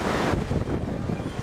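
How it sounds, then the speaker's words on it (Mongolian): Strong mountain wind buffets and roars steadily at close range, a dense rushing noise lasting throughout, with no voices. "Айгүй их салхитай байна."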